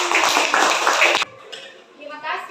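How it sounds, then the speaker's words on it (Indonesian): Students applauding a classmate in a combined-grade classroom, a dense burst of clapping for about a second that cuts off abruptly, followed by quieter room sounds and faint voices. "Tepuk tangan dulu untuk Putri."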